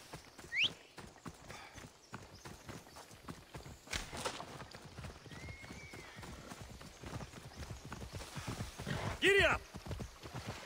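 Horse hooves clop in a fast, steady rhythm while riding through Assassin's Creed Odyssey, with a brief whinny and voices calling out over the galloping.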